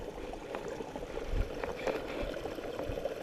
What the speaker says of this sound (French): Vous entendez le joli bruit du glou-glou du petit torrent.